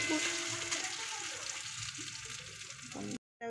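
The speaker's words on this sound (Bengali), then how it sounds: "এবার দেখো এই পেস্ট করা মটরশুঁটিটা দিয়ে দেবো, দিয়ে ভালো করে নেড়ে চেড়ে নেব।" Mashed green pea paste frying in hot oil and being stirred for koraishutir kochuri, a soft, steady sizzle with quiet stirring that cuts off abruptly near the end.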